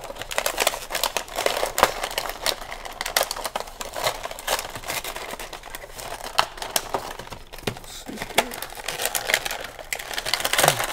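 Plastic packaging of a Dr. Doom MechStrike action figure crinkles and crackles as it is opened, a run of close, irregular rustles and snaps with no talking.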